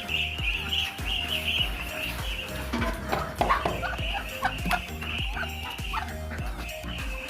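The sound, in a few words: ducks calling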